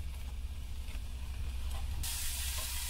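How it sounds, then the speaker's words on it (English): Steak searing in a hot pan: a steady, close hiss and spit that runs throughout, turning brighter and louder partway through. "I'm gonna throw the steak in"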